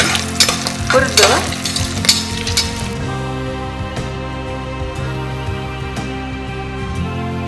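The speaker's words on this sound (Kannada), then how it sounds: "ಕಾಯಿ ಮೆಣಸು, ಗೋಡಂಬಿ, ಬಾದಾಮಿ, ದ್ರಾಕ್ಷಿ ಎಲ್ಲವನ್ನು ಚೆನ್ನಾಗಿ ಹುರಿದು" Coconut, chili, cashews, almonds and raisins fry in a pan with a close, bright sizzle and clattering stirring for the first few seconds, then settle into a steady crackling fry.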